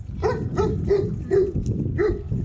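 An aggressive dog barks at a cyclist during a snowy ride from Lithuania to Poland: five loud, close, harsh barks in quick, steady succession over a constant low rumble, with no talking.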